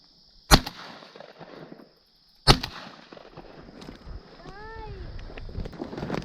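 Two sharp shotgun blasts ring out a couple of seconds apart at a teal duck hunt on a pond, each a loud close crack with a brief trailing echo, followed by faint duck calls and quiet outdoor noise.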